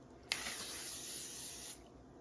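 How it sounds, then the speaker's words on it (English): Makeup setting spray is misted onto a face in one sustained, close hiss of about a second and a half, starting with a sharp pump click and cutting off cleanly. "It is a setting spray. I'm going to apply my makeup and just kind of spray this in steps as I go."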